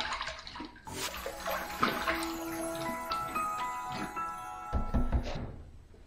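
A safety razor is rinsed under running water from a tap, with steady close splashing broken by a few light metallic knocks and taps against the basin.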